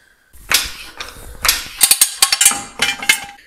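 Tools clatter and knock while the front shock absorbers come off a Fiat Seicento Abarth: a run of sharp metallic clicks, taps and short ratcheting bursts, close and fairly loud, with brief pauses between strikes.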